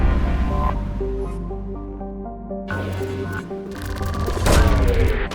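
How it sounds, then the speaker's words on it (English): A probe launching in Mass Effect 2, a loud layered whoosh and synthetic tonal sweep ending in a sharp burst of release, heard alone with no talk. "Launching probe."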